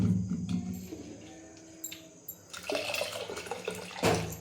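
Water pours steadily into a metal pressure cooker, rising to a louder, fuller gush toward the end, with no talking.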